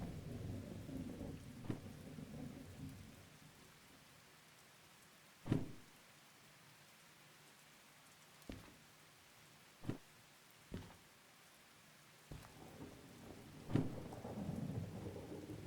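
Thunder and rain in a rainstorm, with several sharp, loud thunder cracks and rumbles at intervals over a soft, steady patter of rain.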